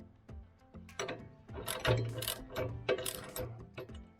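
A 24 mm wrench tightens a nylon lock nut while a GeoTech PCS 155 BSE petrol branch shredder is assembled, giving close, uneven bursts of ratcheting clicks with short pauses between strokes.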